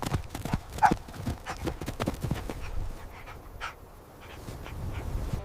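A dog chases wild boars on a farm, with rapid scrabbling footfalls and panting close by, uneven bursts of movement throughout.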